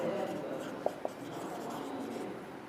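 Chalk or marker strokes on a board during a Hindi genetics lesson, a light scratchy rustle with two brief taps, steady and moderately close in a quiet room.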